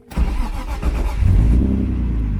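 A car with a faulty idle control valve is started. The engine cranks, catches and settles into a loud, rough idle close by.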